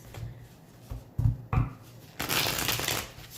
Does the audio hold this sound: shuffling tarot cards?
yes